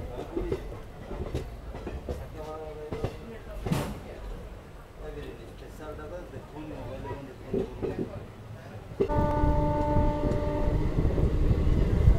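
A train rolls along the railway line on the Puri route near the Visakhapatnam line junction, with a steady rumble and clatter, occasional horn-like tones and people talking nearby. A louder, denser roar with sustained tones comes in near the end.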